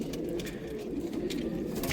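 Breeding pigeons coo in a steady low murmur that runs throughout, with soft overlapping calls at close range and some faint background noise.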